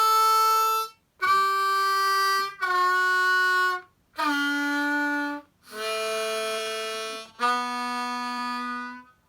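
Harmonica playing a lick, six sustained reedy notes separated by short gaps, bending between pitches, close and clear with no talking.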